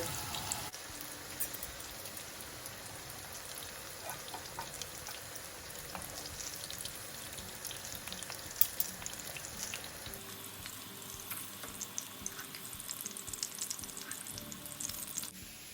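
Aubergines sizzling and frying in hot oil in a pan, a steady close crackle and spatter throughout with a few sharper pops, no talking.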